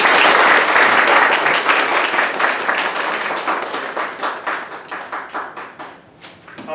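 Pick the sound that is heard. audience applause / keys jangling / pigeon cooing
audience applause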